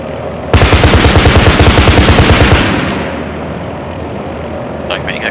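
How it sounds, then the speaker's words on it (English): Aircraft cannon fire strafes a strong point in a close air support video game, a loud rapid burst of evenly spaced heavy shots lasting about two seconds, then a fading rumble with faint clicks afterward. "If you could fly over and provide some cannon fire."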